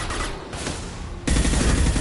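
Sustained gunfire from a firefight in Mass Effect 2, a dense rattle of shots that jumps louder midway and keeps going with no speech.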